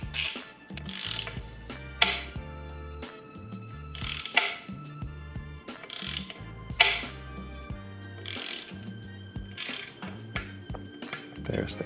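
A torque wrench ratchets while tightening the rear saddle clamp screw to 3 newton metres on a carbon seatpost of a steel Daccordi bike, with repeated close mechanical clicks and grinding bursts at a loose rhythm.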